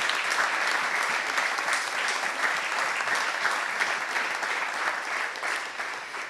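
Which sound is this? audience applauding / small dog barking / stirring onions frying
audience applauding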